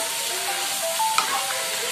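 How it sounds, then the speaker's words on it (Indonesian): Spinach stir-frying in oyster sauce in a pan, a steady soft sizzle and hiss with a brief stirring clink, cooking until wilted, no talk. "Ini kita tumis sampai layu."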